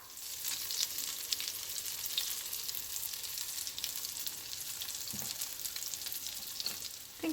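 Potato and cheese pancakes sizzle in a pan with a constant close crackle, punctuated by soft stirring and scraping sounds and a couple of duller knocks toward the end.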